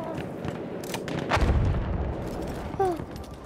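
Gunshots in the video game Battlefield, a few sharp booming cracks at moderate distance, with one heavy burst mid-clip and a lighter shot near the end, under faint background noise.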